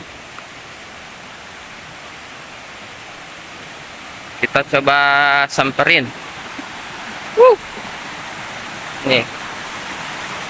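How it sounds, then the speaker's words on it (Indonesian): A fairly strong, clear river rushes steadily as a continuous broadband roar throughout, with a person speaking briefly over the water in the middle. "Ini ya, suasana gemuruh air sungai yang mengalir di sini."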